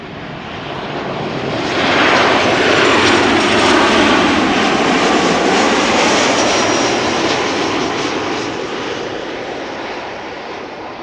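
KLM airliner inbound from Paris on a sunny day at Amsterdam Schiphol, its engines roaring loud and close as it passes, swelling to a peak and then slowly fading away, with no talk.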